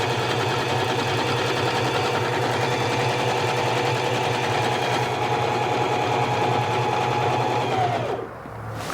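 Janome HD5000 sewing machine stitching fabric, a steady close mechanical whir with a rapid needle rhythm running for about eight seconds before stopping abruptly.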